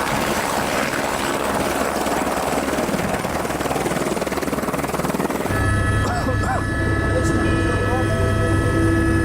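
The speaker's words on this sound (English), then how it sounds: "Then another helicopter gets through." A loud helicopter near the earthquake-damaged Mount Everest base camp roars with a steady thudding rotor drone, then its whine shifts to a higher, tonal engine pitch as it seems to move closer.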